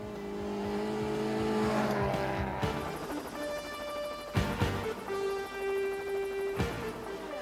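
A Volkswagen Golf rally car races past with a high, revving engine whine that rises and falls through gear changes, with sharp bursts as it passes, heard from a moderate distance.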